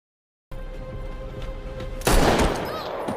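A gunshot in an action film as a fleeing woman is shot, a sudden loud burst of gunfire cutting in over a tense musical score, its echo trailing off.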